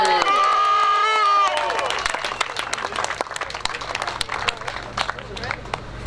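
Applause at a motocross award ceremony in Põlva: a loud opening call from the announcer gives way to a moderate scattered clapping from the outdoor crowd, fairly thin and uneven.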